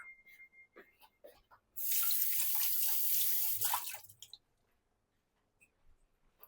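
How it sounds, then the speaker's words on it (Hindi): A tap runs for hands being washed at a kitchen sink, a close, steady gush of water lasting about two seconds, framed by small clinks and handling noises before and after. "I wash my hands and come back."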